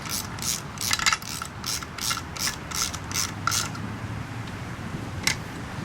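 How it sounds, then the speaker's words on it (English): A ratchet wrench tightens the bolts on a Yamaha outboard motor's water pump housing, giving repeated short bursts of rapid clicking in an uneven rhythm, close and clear with no talking. "So right now I tighten up the 4 bolts"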